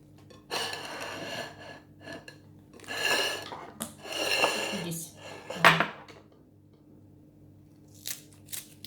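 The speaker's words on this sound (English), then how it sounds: "And after we get to slice the salad. Just use a knife." A knife cuts salad for a French salad, giving sharp metallic scrapes and clinks against the board in several uneven bursts, close and fairly loud, with some breathy noise between strokes.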